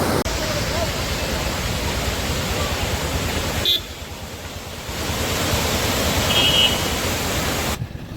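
Roadside waterfall in Nainital during monsoon, heard as a steady, loud broadband rush of falling water. The level dips briefly partway through and then returns to a constant roar, with no clear voices.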